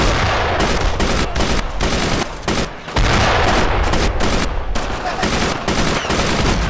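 Sustained machine gun fire in Brothers in Arms: Road to Hill 30 during a World War II assault on Utah Beach against German troops. The rapid, loud bursts come close and nearly nonstop, with brief gaps between volleys.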